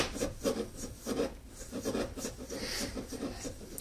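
A Lyman case trimmer cuts a brass cartridge case on a small unsecured workbench, giving a close, rasping scrape in quick uneven strokes over about four seconds, with no talk.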